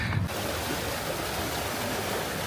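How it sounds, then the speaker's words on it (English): Rain-swollen Johnson Creek rushes past a trestle bridge on a trail, a steady broadband roar of flowing water filling the whole stretch, close and loud with no voices. "With all this rain, really makes this Johnson Creek rise."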